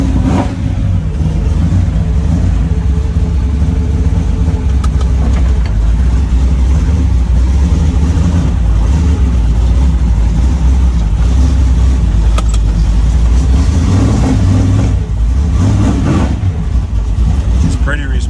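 A 1941 Willys Gasser engine runs loud and steady after a cold start, a continuous deep rumble with slight swells, close by and filling the whole stretch.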